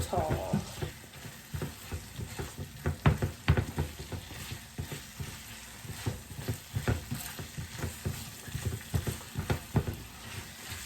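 Steak frying in a pan with sauce thickening, a steady close sizzle with constant crackle and rhythmic scraping as it's stirred, no talking.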